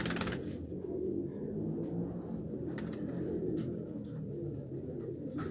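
Sialkoti and Kasuri pigeons coo steadily at a breeder's loft in Sialkot, low throaty calls repeating close by over a constant murmur of background noise.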